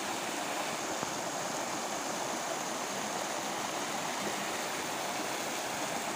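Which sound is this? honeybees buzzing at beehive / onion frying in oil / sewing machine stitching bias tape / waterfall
waterfall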